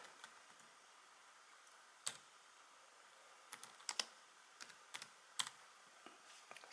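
Someone types on a PineTab tablet's detachable keyboard with quiet, irregular clicks. The keystrokes come in small clusters and stay close and soft, with no voices.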